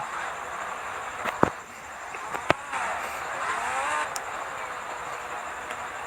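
A steady engine drone with rising and falling pitch sweeps, punctuated by a few sharp clicks, as a motorbike revs in the game Indian Bike Driving 3D.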